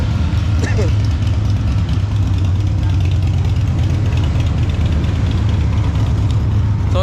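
Several motorcycle engines idle together close by, a loud, continuous low rumble that holds steady for the whole stretch.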